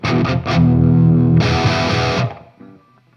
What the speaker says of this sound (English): it feels more of an old school distortion, a bit more of like a angry crunch thing